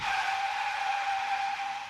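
Tires skid in a sustained high squeal, a steady shrieking smear of rubber on pavement lasting a couple of seconds at moderate level, part of a car crash sound effect in a radio ad.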